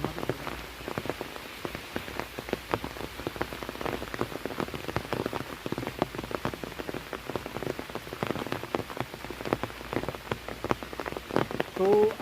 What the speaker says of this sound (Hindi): बारिश का स्तर भी काफ़ी तेज़ हो रहा है